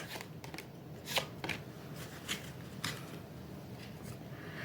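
Tarot cards are handled and drawn quietly at close range, with soft papery shuffling and a few crisp snaps of cards being pulled from the deck.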